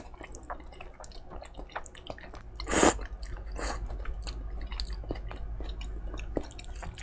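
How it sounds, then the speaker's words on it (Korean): Close, wet chewing of spicy tteokbokki noodles at a mukbang, with soft smacking bites throughout and one louder slurp or crunch burst near the middle, no talking. "면을 먼저 한번 먹어볼게요"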